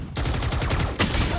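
A rapid automatic spray of gunfire in a Valorant esports match sounds as a tight, fast string of shots in one continuous burst, with a brief break before the firing resumes.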